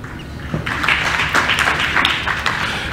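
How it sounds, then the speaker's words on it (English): Union delegates at the SAMWU national congress applaud, a dense, steady wash of clapping that swells after a brief quieter opening and holds for the rest of the moment. "we want to applaud you for that"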